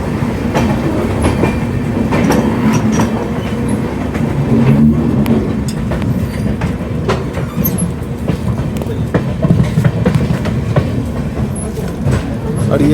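A Rajdhani Express train pulling out of Patna, heard as a loud, continuous rolling rumble from up close, with rhythmic clickety-clack of wheels over rail joints and occasional metallic clanks throughout.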